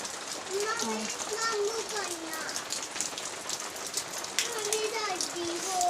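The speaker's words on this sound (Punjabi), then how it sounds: "ਬਾਹਰ ਦੇਖੋ ਜੀ ਮੀਂਹ ਵੀ ਆ ਗਿਆ" Steady rain patters outside in a constant wash of sound, while voices, including a child's, talk over it.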